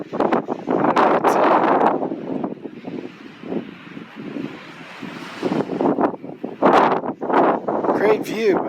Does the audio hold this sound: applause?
no